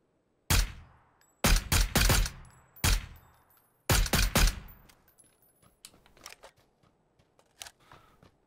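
MK14 rifle fire in PUBG: several loud, sharp single shots and quick doubles with ringing tails, close and punchy, then quieter faint clicks and distant pops, no talk.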